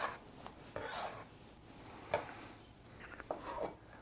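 A floured bench cutter slices through sourdough bread dough on a work surface, making a few soft, scraping rasps that come in short separate strokes at close range with no voices.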